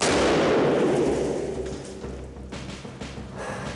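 A rifle fires at a skeet target flung from a close-range skeet machine about 30 feet away: one loud blast right at the start, its echo and rumble fading over a second and a half into quieter background.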